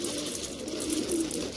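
Pigeons coo softly in a continuous low murmur, a flock heard close by with steady, overlapping throaty calls and no talking.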